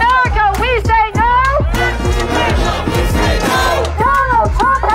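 A large protest crowd marching on July 4 near the White House chants loudly in rhythmic, repeated shouted phrases, with many voices together close by and dense crowd noise between the chants.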